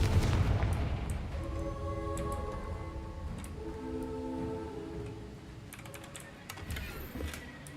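A Confringo fire-spell blast in a Harry Potter video game, a loud booming burst at the start that fades under sustained musical tones and low rumbling game ambience.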